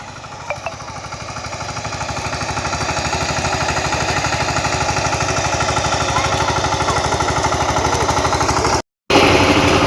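A tractor engine works a paddy field during rice sowing in the Konkan, one of two tractors on the job. It gives a loud, steady, rapid diesel thumping that builds slightly and runs continuously up close, broken briefly near the end.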